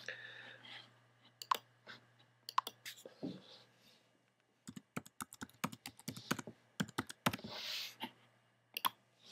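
Someone types on a computer keyboard to sign in, quiet bursts of rapid key clicks with short pauses between them, close and isolated in a quiet room.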